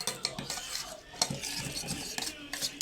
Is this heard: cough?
no